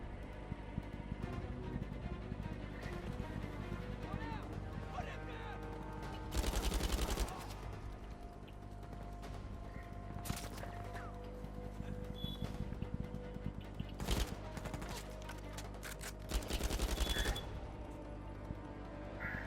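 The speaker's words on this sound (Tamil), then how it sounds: "சுடு, விடாத, எவனையும் விடாத." Gunfire in the video game Uncharted: Legacy of Thieves on PS5, with steady automatic bursts over game music and heavier volleys that erupt twice.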